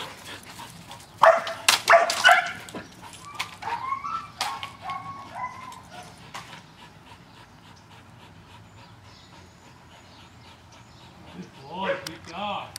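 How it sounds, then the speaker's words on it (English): A dog barks sharply a few times up close, then whimpers and pants more quietly before a final short burst of noise. "Excellent time to stop him when he started barking"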